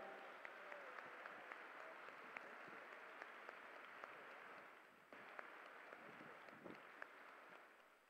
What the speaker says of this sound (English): let's get another round of applause here.